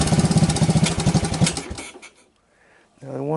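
A 1985 Honda ATC 200S ATV runs on a carburetor that was never rebuilt, a loud, rapid, throbbing chug close by for about a second and a half before it cuts out, followed by silence and a brief voice.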